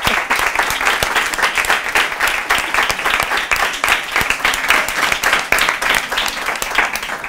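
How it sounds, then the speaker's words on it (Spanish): Loud, close audience applause in a group setting, many people clapping in a dense continuous patter that holds steady throughout with a few sharper individual claps standing out. "¡Aplaude, Teresa!"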